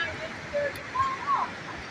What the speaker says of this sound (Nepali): यहाँ चाहिँ अब यो साह्रै राम्रो रमणीय ठाउँ छ रुक्से झरनाको